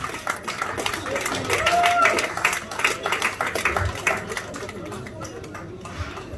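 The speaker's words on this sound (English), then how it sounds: "Let's clap our hands." Many hands clap together at an anniversary celebration, a moderately loud burst of applause that swells and then thins out, with voices talking and chattering over it.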